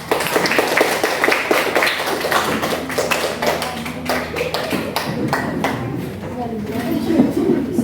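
A classroom group claps after presenting, a dense patter of hand claps running throughout, mixed with some background chatter.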